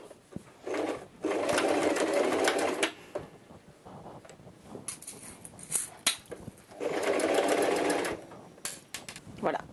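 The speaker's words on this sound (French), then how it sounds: "Donc on va piquer tout ça. En suivant bien l'arrondi." Sewing machine stitching fabric along a curve, with two long, steady whirring runs of needle stitching, the second ending in brief stops and starts, and quiet room noise in between.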